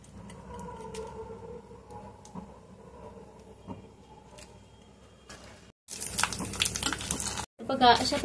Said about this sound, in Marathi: आपण 2-3 अशा पापड्या तळून बघूया।